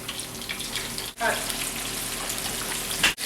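Buttermilk fried chicken pieces frying in a pan of hot oil, a dense continuous hiss and crackle, close up, with a couple of brief dips in the sizzle.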